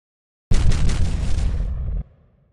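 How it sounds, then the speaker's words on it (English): A loud, deep cinematic explosion bursts suddenly, roars for about a second and a half, then cuts off into a short fading echo. "the explosion sound will be like this."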